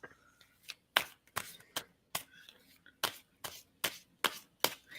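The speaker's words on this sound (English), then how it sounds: "And so I'm going to stop shuffling on that." Tarot cards being shuffled by hand, with a series of sharp riffling snaps at an uneven, roughly half-second rhythm, close and crisp, and faint speech between them.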